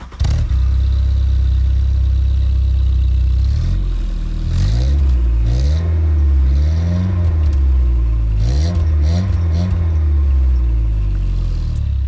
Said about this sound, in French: on va faire un petit démarrage et je vais mettre le micro à côté pour que vous entendiez bien